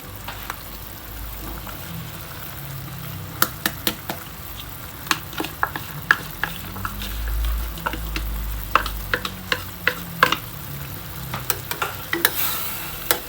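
Carrots and potatoes stir-fried in a pan give a steady sizzle with repeated sharp clinks and scrapes of a spatula against the metal, at close range and with no speech.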